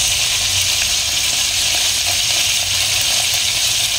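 Garlic and onion frying in a pan for ginataang kalabasa, a loud, continuous close sizzle with faint stirring scrapes, no voices.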